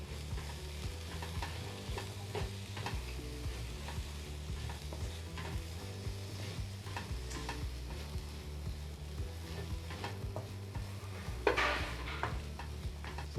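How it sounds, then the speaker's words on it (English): Green capsicum and vegetables sauté for pav bhaji in a pan, a steady soft sizzle with the scrape and knock of a spoon stirring at irregular intervals. "Now let's saute this together."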